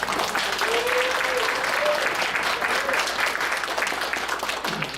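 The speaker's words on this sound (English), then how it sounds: "I think that deserves a round of applause" An audience at a community college town hall gives a steady round of applause, fairly close and sustained, with a faint voice briefly audible over the clapping.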